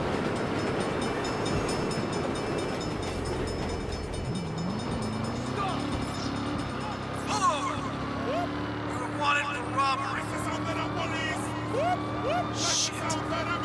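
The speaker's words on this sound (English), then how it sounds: "Hell of a time for a train." Train passing during a police chase in the Saints Row video game, a steady rumble with rising and falling horn-like tones over street and vehicle noise, with people talking at times.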